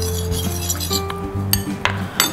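A spoon stirs baking soda into room-temperature water in a glass to dissolve it, giving repeated light, close clinks against the glass in an uneven rhythm over a low steady hum.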